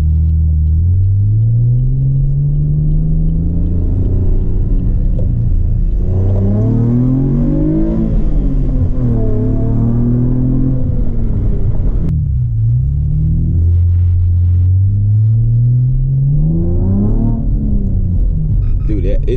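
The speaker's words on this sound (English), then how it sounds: "the stock resonator is not doing much right now because the car is kind of loud." A modded 5th-gen Camaro with high-flow cats and the stock resonator rumbles loud and deep from inside the cabin, revving up and easing off in several long sweeps.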